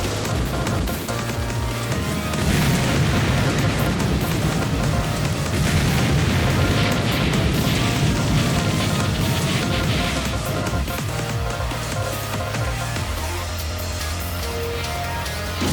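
Loud, sustained rumbling bursts of auto-bomb explosions in a bullet-hell shoot-'em-up, merging into a continuous roar over the game music before easing off near the end.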